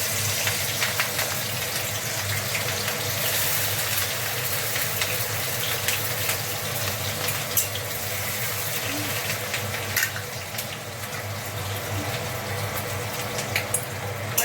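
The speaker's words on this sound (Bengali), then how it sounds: "তেলে এই যে রসুন কুচি আর এই লঙ্কা কুচি তেলে ফোড়ন দিলাম" Chopped garlic and green chili temper in hot oil in a wok, giving a loud, continuous hiss with scattered crackles that lasts throughout.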